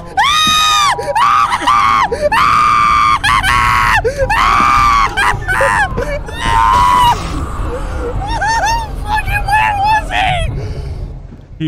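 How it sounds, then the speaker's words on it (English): Several people scream in an SCP horror video game, loud, high, wavering cries repeating in bursts across the whole stretch, with a dense noisy background throughout. "Dude, I hear people screaming now."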